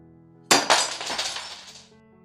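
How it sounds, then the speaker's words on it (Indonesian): Glass shattering inside a room: a sharp loud crash, a second impact a moment later, then a shower of tinkling shards that fades within about a second and a half. "Terdengar suara pecahan kaca yang berasal dari sebuah kamar"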